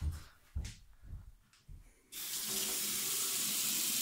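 A water tap opens after a few soft knocks and bumps, then runs in a steady, hissing stream that continues to the end with no talking.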